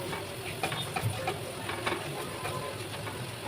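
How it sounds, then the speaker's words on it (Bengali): Crushed garlic and onions frying in a pan, a continuous close sizzle and hiss with light stirring clicks and no talk. "আগে থেকে থেতো করে রাখা রসুন দিয়ে আরেকটু ভেজে নেব"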